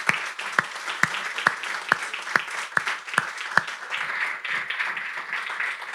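A congregation claps to welcome a newcomer, with several distinct sharp claps standing out over a softer spread of applause that continues steadily near the listener.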